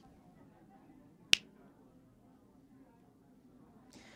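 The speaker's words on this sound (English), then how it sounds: "snap my fingers and watch" A magician performing close-up card magic snaps his fingers once, a single sharp, loud crack standing alone over quiet room murmur, followed by a faint rustle.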